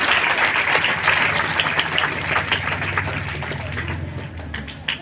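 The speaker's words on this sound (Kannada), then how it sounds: "ಈಗ ಹೊಡಿಬೇಕಿತ್ತು ನೀವು ಚಪ್ಪಾಳೆ" Applause at the SRA High School Banhatti annual function fills the room as a steady, dense wash of many hands clapping, holding loud for several seconds before easing slightly.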